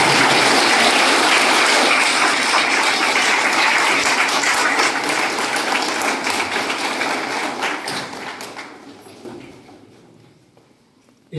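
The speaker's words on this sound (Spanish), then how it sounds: "un aplauso para Lupita y su familia" Sustained crowd applause for Lupita and her family at a quinceañera celebration in El Durazno, Jerez, dense and loud at first, then thinning and fading out toward the end.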